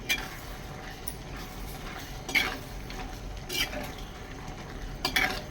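Squid roast bubbling and reducing in a pan with small onions, stirred with a utensil that gives a few distinct scraping clatters against the pan over a steady low simmering hiss.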